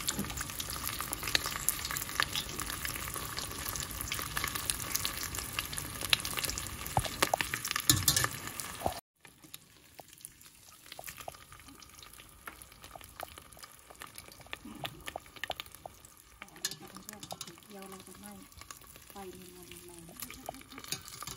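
Wontons fry in hot oil in a pot, giving a dense continuous sizzle that drops to a quieter bubbling crackle partway through, with occasional stirring scrapes and faint talk.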